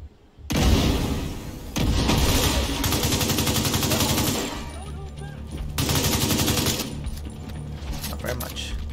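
A deployed turret in The Division 2 game fires loud sustained bursts of automatic gunfire, in several long volleys separated by short pauses, with game voices faintly present under the shooting.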